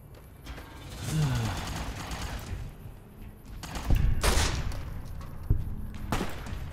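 Gunfire in Fallout New Vegas, a few sharp shots and bursts amid engine-like rumble and game noise, loud and close, with a voice talking over parts of it.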